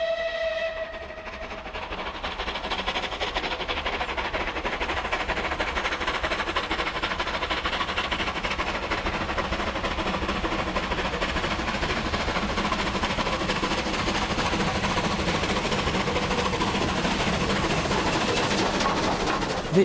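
A rebuilt West Country class steam locomotive runs in a loud, sustained rush of noise, opening with a brief whistle before the steady roar of the train carries on unbroken.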